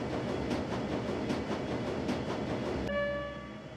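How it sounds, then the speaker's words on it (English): A speeding train in the Shadowrun: Dragonfall game, a dense rolling rumble with rhythmic clatter that suddenly gives way to a steady tonal hum near the end, with no voices. "The train is speeding towards the cruise bazaar station."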